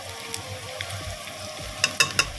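Green chillies fry in a pot with a soft, steady sizzle, then a few crisp clinks from stirring near the end, close and quiet.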